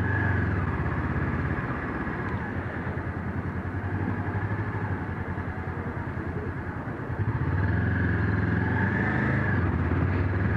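A Honda CB500X motorcycle engine running, a steady mid-pitched rumble with a low throb that swells louder partway through as the revs rise, heard alone.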